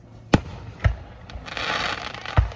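Fireworks going off at a Fourth of July backyard celebration: several sharp booming bangs at uneven intervals, with a crackling hiss between them.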